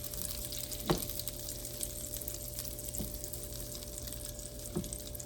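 Butter sizzles and bubbles in a pan, a steady close frying crackle with a few louder pops scattered through, no voices.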